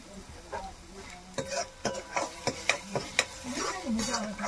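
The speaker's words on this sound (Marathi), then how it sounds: "जिरे मोहरी खोबरं टाकलं. खोबरं जरा परतून द्यायचं" Grated coconut roasting with cumin and mustard seeds, stirred in a pan with a run of sharp, rhythmic scraping strokes over a light sizzle, close up and moderately loud, without speech.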